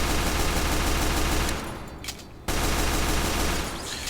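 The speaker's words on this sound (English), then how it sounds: "So your best option is to spam at it with your pistol." The Scout's pistol fires rapidly in Team Fortress 2, a loud, continuous stream of shots that cuts out for about a second and then resumes just as densely.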